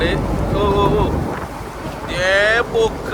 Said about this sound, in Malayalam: കാറ്റും കോളൊക്കെ ആയിട്ടുണ്ട്